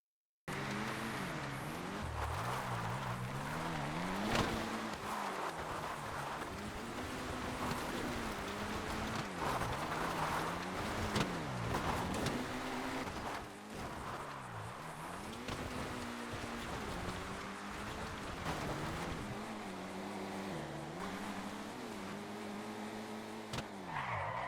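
A V6 engine in a GTA game car revs and drops repeatedly as it drives, a close, continuous engine note that rises and falls with gear changes, with tire squeal and skidding mixed in throughout.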